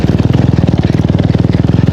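A KTM Duke 390 motorcycle engine heard up close and loud, a steady fast thumping single-cylinder pulse that holds an even rhythm throughout with no talk over it.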